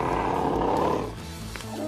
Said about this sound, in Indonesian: Tadi gua dengar suara harimau dari sini.